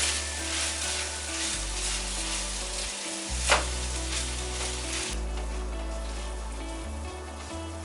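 Italian sausage and melting butter fry in a pan with a steady, dense crackling sizzle, close and continuous, with a brief stir or clatter in the middle and no talking.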